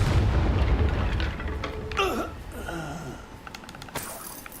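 The Confringo fire spell in the game Hogwarts Legacy goes off with a loud, booming blast, followed by crackling bursts and whooshing effects as the explosion dies away.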